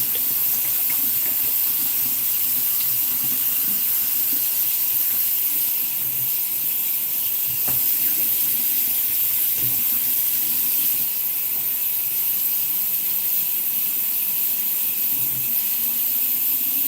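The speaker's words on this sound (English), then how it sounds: "So typically when I'm filling it with water and I no longer see bubbles coming up, that's how I know that it's fully rinsed out" Tap water runs steadily into a container being rinsed out, a continuous hissing splash with no talk, lasting throughout at a close, even level.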